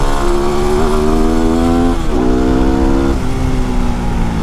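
A Yamaha WR motorcycle engine runs smoothly and loudly up close, its buzzing tone rising and dipping slightly with throttle, with no sputtering.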